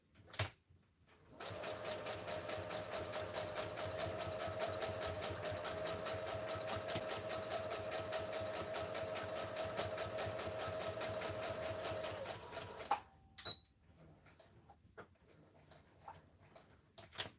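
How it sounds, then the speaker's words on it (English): A sewing machine stitches fabric for a wired headband wrap in a fast, even run of mechanical ticks. It starts after a brief pause and stops cleanly, followed by a few faint handling clicks. "continue to sew this way."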